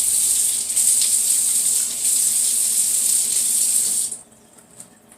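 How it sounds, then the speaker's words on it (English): Water runs from a kitchen tap onto kale leaves being prepared for microwaving, a steady bright hiss and splash for about four seconds that then cuts off, leaving faint drips and room quiet. "sprinkle it with water."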